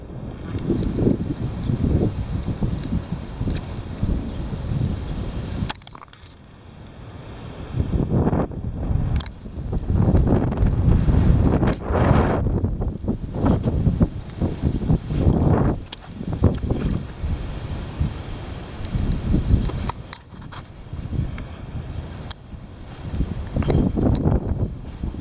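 Heavy wind buffets outdoors in long, rumbling gusts that rise and fall over nearly half a minute, with a deep roar that eases only briefly.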